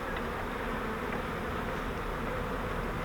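Honey bees inside an opened swarm trap fitted with frames make a steady, dense buzzing drone that holds evenly and close throughout, with no voices.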